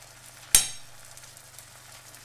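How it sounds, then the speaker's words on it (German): Small vegan meat patties dropped into hot fat give one sharp splash and hiss, followed by a quieter steady sizzle over a low hum. "Damit kann ich jetzt super ein paar kleine Buletten formen und die einfach in das heiße Fett legen"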